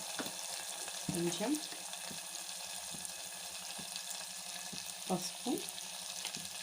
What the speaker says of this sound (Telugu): ఇలా కొంచెం పచ్చిమిరం స్మెల్ పోయేంత వరకు ఫ్రై చేసుకోవాలండి.